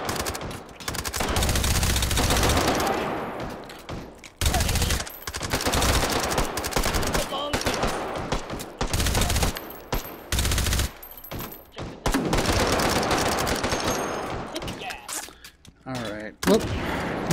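Weapon fire from a grenade launcher and other guns in the VR shooter Hot Dogs, Horseshoes & Hand Grenades, loud bursts and booms with gaps between, mixed with game noise and a voice talking at times.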